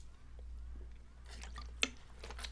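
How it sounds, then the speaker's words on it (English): A person sips water, with a few soft, wet gulping and swallowing sounds. The sips are quiet and close, heard alone without talk. "Hold on, I gotta drink some water."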